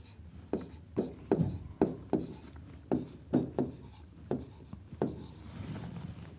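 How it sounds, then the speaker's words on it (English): A pen writing a number on a paper form: a quick series of close, distinct scratching strokes in short uneven bursts, then a softer rustle at the end. "I would write my social security number here"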